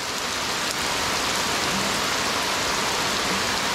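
Heavy rain pours down outdoors, a dense, steady roar of drops hitting surfaces that fills the whole stretch without letup.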